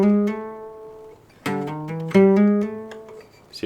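Guitar hammer-on pattern played on the fifth and fourth strings in a beginner hybrid-picking exercise, clear plucked notes ringing in short groups with a pause before the phrase repeats, close and alone without speech.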